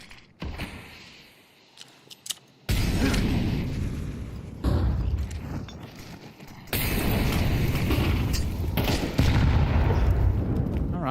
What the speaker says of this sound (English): well-placed nade